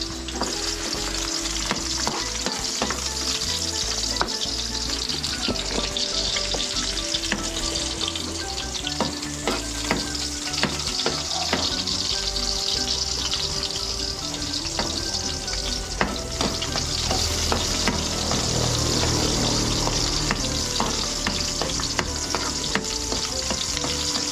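Onions sauté in a pan in a rural home kitchen, giving a steady, loud sizzle and frying crackle with occasional stirring scrapes that lasts throughout with no one talking.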